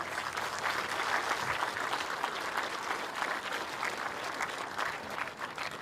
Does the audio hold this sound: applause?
yes